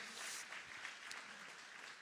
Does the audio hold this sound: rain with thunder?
no